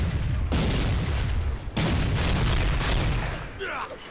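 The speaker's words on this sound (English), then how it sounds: "Grenade out! Grenade!" Grenade blasts and heavy gunfire in Dead Rising 4 erupt in loud, booming bursts, two sharp explosive onsets followed by rumbling and rattling, with a voice shouting over the chaos.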